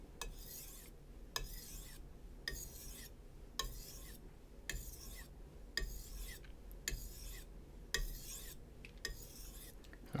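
A fillet knife is drawn along a sharpening stone in steady, evenly spaced rasping strokes, about one per second, each a short scraping swipe followed by a brief pause, close and fairly quiet with no talk.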